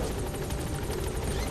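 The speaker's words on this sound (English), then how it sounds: "This helicopter's a little bit loud, right?" A helicopter in Metal Gear Solid V drones loudly and steadily from close by, its rotor chopping in an even rapid rhythm with no voices.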